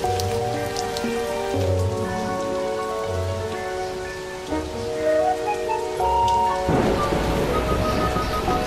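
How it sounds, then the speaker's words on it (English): Steady cartoon rain pattering on a hard surface, broadband and continuous, with a bright tonal melody playing over it and a heavier gush of rain near the end. "It's a very rainy day today."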